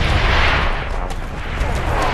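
Heavy artillery fire in Call of Duty: World at War, a loud, continuous rumbling barrage of booms and blasts filling the scene with no break.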